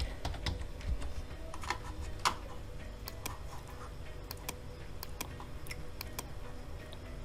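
Computer keyboard typing text while designing a packaging flyer in Photoshop, a steady run of light, close key taps with a few sharper clicks over a low room hum, with no talk.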